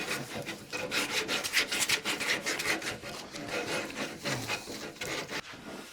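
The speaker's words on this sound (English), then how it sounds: "there's going to be a lot of hand sanding on this, especially in here" Hand sanding a wooden rocker cradle by hand, a quick, rhythmic series of loud rasping strokes back and forth across the wood, close up and alone.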